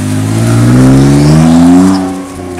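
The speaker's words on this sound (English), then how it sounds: "the rear tires were rubbing like crazy" A BMW E46 on wide steel wheels with the rear tires rubbing, its engine loud and near, rising and revving steadily with a strong droning tone that swells and then eases off, no talking.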